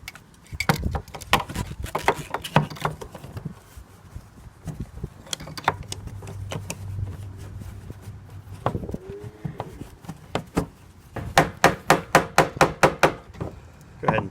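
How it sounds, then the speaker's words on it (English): Repeated metal-on-metal hammer taps on a Jeep Wrangler TJ fuel pump lock ring ring out close by, some scattered and then a fast steady run of strikes near the end, with faint handling noise between. "Go ahead and tighten it by hammering it on the same way we took it off"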